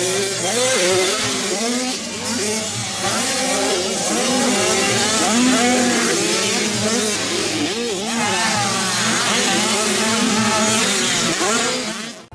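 A toy motocross bike roars with a loud, continuous buzzing engine sound that wavers up and down in pitch like revving, steady throughout with no talking.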